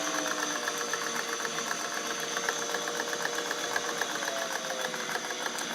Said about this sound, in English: We'll do 4 layers. Again, it's not going to be any big deal for this machine.